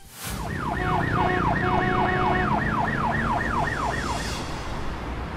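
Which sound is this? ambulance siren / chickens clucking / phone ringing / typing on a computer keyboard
ambulance siren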